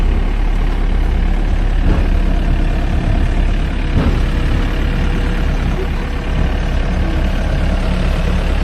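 A construction digger's engine runs steadily at a construction site, a loud, continuous low rumble with a couple of faint knocks and no talk.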